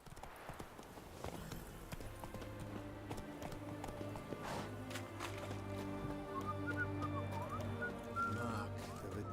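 Horse hooves gallop at a fast, steady clip-clop in The Witcher 3, with the loud, rhythmic beats running throughout and a faint whistle-like tone drifting over them late on.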